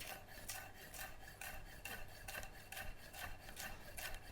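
A knife slicing a halved chili into thin strips on a cutting board, with rapid, even rasping strokes repeating about twice a second, close but quiet.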